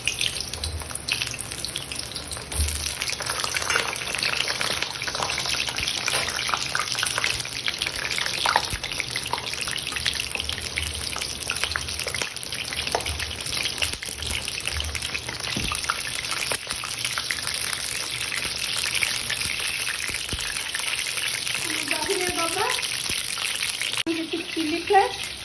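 Eggplant frying in hot oil on a stove for an Odia dahi baigana dish, heard as a steady, dense sizzling hiss that runs unbroken throughout, with no talking over it.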